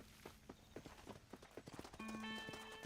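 Horse hooves clip-clop at a brisk pace in the video game Red Dead Redemption, a quick, even rhythm under a dense game soundscape with a sustained tone near the end.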